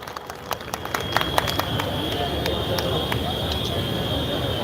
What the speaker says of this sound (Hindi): जोरदार तालियां बजा करके इस्तेमाल करें जनाब राजन गिरी साहब का।